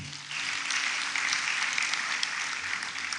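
A convocation ceremony audience claps for the Vice Chancellor, a fairly distant, even wash of applause from a large crowd lasting a few seconds without a break.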